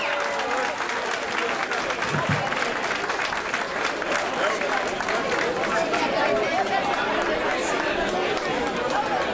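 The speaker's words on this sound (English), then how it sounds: "Would you give a nice warm round of applause?" Warm, steady applause from a theater audience welcoming an a cappella singing group, dense clapping mixed with crowd chatter that keeps up throughout.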